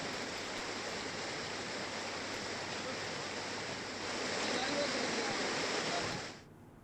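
Floodwater rushes through Jalna after heavy monsoon rain, strong enough to sweep a car away. It makes a broad, steady roar that swells slightly, then drops off abruptly near the end.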